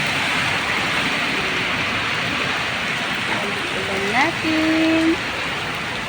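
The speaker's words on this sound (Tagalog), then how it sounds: "Ayan po. Ang ulan natin." Rain falls steadily outdoors on a dark day, a constant broad hiss running through the whole stretch, with a person speaking briefly over it and a few short tonal sounds near the end.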